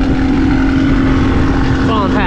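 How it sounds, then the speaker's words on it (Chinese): A small outboard engine on a fishing boat drones steadily and loud throughout, with wind and water noise around it and a brief higher whine near the end. "但是我们这个小发动机"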